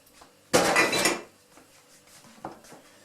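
Metal pots clank and clatter in a home kitchen during cheese making: one loud burst of rattling lasting about half a second, then a fainter knock near the end.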